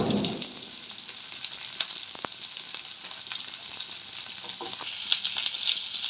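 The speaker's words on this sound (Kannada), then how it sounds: "ಸ್ವಲ್ಪ ಫ್ರೈ ಮಾಡ್ಕೊಬೇಕು ಚೆನ್ನಾಗಿ." Garlic and ginger sizzle steadily in hot oil for a paneer masala, a continuous close frying hiss with small crackles and occasional stirring scrapes, no talking.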